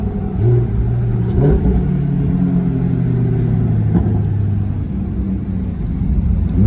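Lamborghini Huracan STO rolling into the pit lane at the Circuit of the Americas, a loud, close, continuous engine rumble whose pitch sweeps gently as it slows, with no talking.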